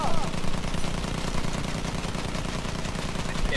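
Sustained rapid machine gun fire from a hand-held aircraft gun in Battlefield 1, shooting at a bomber, a dense unbroken rattle of close shots with a voice faintly underneath.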